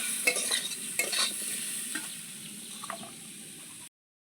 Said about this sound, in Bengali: কাঁঠাল দানার আলুটা দেখুন বেশ অনেকক্ষণ ধরে ভাজা ভাজা করে নিয়েছি এবার শাকটাকে দিয়ে দেবো